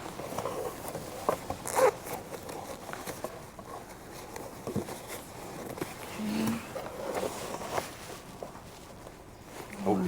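A zipper on the battery pocket of a KEMIMOTO heated vest is pulled in a short, quick zip close to the mic, while people talk around it.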